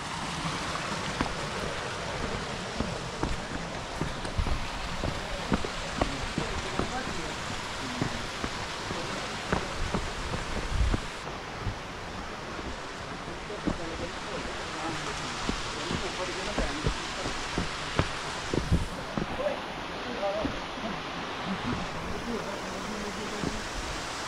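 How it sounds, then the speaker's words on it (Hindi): A mountain stream flows near Vashisht in Manali, giving a steady broadband rush of water that stays even throughout, with footsteps and occasional voices mixed in over it. "पानी की आवाज़ आ रही है"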